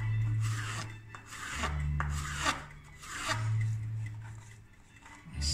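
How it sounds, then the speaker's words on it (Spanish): A knife slicing vegetables into fine julienne strips on a board, giving close, repeated rasping strokes in an irregular rhythm with no talk, over a steady low hum. "sigo cortando mis verduras. Sacando juliana"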